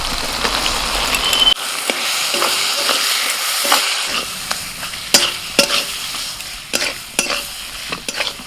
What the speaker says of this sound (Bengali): যে চিকেনটা আমি কিমা করে রেখেছিলাম এবার সেটা দিয়ে দিচ্ছি